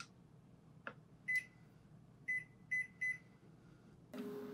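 Four short electronic beeps, a faint clunk before them, then a steady hum with a rushing whir as the appliance starts running.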